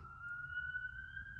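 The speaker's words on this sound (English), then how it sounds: "sorry, the sirens are really a lot right now." Emergency vehicle siren outside in a city, a steady high wail holding one tone, distant and faint over low background rumble.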